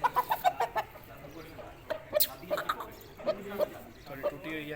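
An aseel rooster clucks in short, repeated bursts at close range, with bird calls scattered through and someone talking over it.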